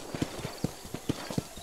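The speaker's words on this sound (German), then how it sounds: "mit X können wir das ganze Pferdchen mal ein bisschen antreiben." Horse hooves clip-clop in a steady, evenly spaced rhythm while the rider urges the horse forward in the Western video game Red Dead Redemption. The hooves are close and distinct against faint background ambience.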